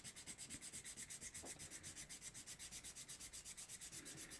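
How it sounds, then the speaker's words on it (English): Sandpaper rubbed back and forth over the end of a small plastic part of a Meng 1/35 scale Ford F350 model kit, a quiet, close, regular scratching rhythm of quick even strokes, about eight per second, with no talk. "So what we're going to do is just sand up the ends on here."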